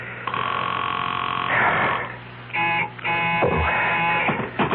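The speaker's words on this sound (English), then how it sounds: "I'll just answer the phone" A telephone rings in repeated electronic bursts with short gaps between them, loud and close, with a muffled clunk in between.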